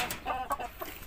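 Shamo Asil chickens, an oriental breed, giving a few short, soft clucks in quick succession, heard fairly close and quiet.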